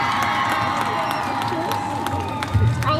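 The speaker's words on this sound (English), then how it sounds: "We will give another round of applause." A crowd applauds and cheers at a 4-H livestock expo for market poultry, a dense steady roar of clapping with shouts and whoops mixed in, some voices standing out near the end.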